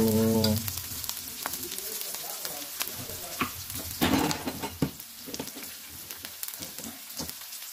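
Garlic frying and sizzling in a pan, with steady crackle, occasional stirring clatter and scraping close by, a brief low tone at the start.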